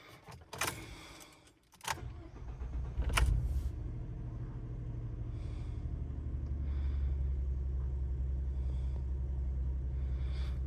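A Ford 3.5 EcoBoost engine cranks and catches with a couple of sharp starter bursts, then settles into a low, steady, rumbling idle with a slight rough shake, heard up close and without talk.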